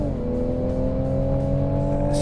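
A Toyota GR Supra drives fast on the Nürburgring track at around 110 mph, its engine a steady, loud, close drone with a slight rise in pitch, running without any voices.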